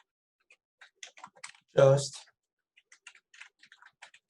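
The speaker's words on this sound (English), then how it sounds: "If you want to type a message, you can simply just start typing like hello," Rapid, light keystrokes click on a computer keyboard as a message is typed into a new Gmail account; the taps come close and crisp, briefly interrupted by a single spoken word.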